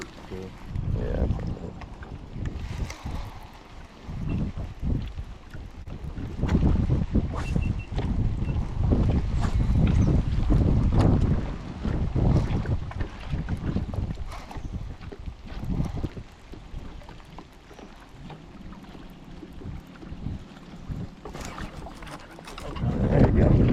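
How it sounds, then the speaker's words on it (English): Strong gusting wind buffets the microphone in heavy, pouring rain on a lake aboard a bass fishing boat, a loud continuous rumbling roar that rises and falls, with people talking intermittently underneath. "it's pouring rain and cold and windy"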